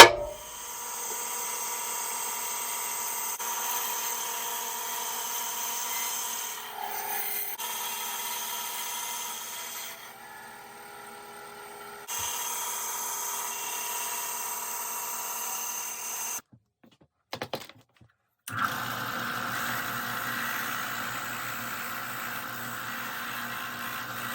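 A power tool cuts out a piece for a handmade fishing lure, whining steadily at close range for a long stretch, with short pauses and changes in pitch and one near-silent gap before cutting resumes.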